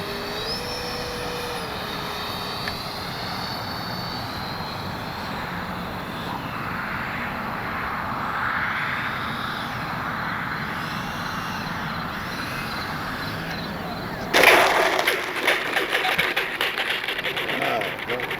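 An Arrows F-86 64mm EDF RC jet, heavily modified, taxis with a steady, loud ducted-fan whine that holds throughout, then jumps to a rougher, louder burst near the end as it turns around.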